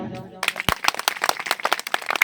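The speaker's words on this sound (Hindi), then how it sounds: "एक बार मेरे सम्मान में ताली बजाओ।" An audience at a Hindi poetry gathering, a kavi sammelan, breaks into applause: a dense patter of many hands clapping, loud and close, with a voice briefly heard at the start before the clapping takes over.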